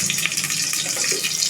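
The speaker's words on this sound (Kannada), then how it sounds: "ಟೇಸ್ಟಿಗೆ ಹಸಿಮೆಣಸಿನ್ಕಾಯಿ ಹಾಕ್ತಾ ಇರೋದು" Green chillies sizzle in hot oil, a loud, continuous hiss with a watery, rushing character that holds steady throughout, close and uninterrupted by talk.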